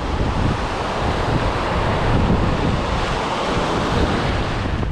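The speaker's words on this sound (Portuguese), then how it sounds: "Olha o vento, tá muito forte." Strong wind buffets the microphone over crashing surf on a stormy shore, a loud, continuous roar of waves and gusts with no break.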